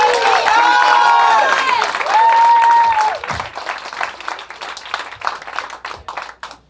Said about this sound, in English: please clap it up for Tom Connelly.